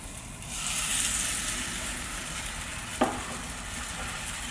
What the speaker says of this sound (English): I'm going to let that melt, let it start to sizzle a little bit, and then I'll add in the batter.